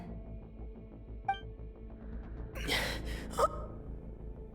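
A video game character gasps for breath, two sharp, close inhalations a moment apart over a quiet, steady background hum, with a fainter breath just before.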